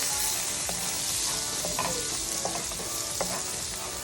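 Two tablespoons of butter sizzling loudly in a pan after chicken was removed for Cajun jambalaya pasta, a dense continuous hiss with scattered small pops and scrapes.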